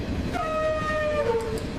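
An AI-generated train whistle sounds as a single sustained tonal blast over a rumbling rail-like background, close and loud, then cuts off abruptly.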